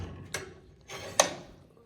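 Mechanism of a liftgate on a 1994 Chevrolet C1500 pickup truck operating, with a few brief mechanical clicks and clunks, a sharp click near the end, moderately close and quiet.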